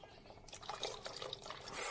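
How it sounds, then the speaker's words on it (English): Water is poured into a pot holding a beef top round roast in a home kitchen, giving a faint, steady trickling and splashing that runs without a break for the whole two seconds. "So now we're going to add the water"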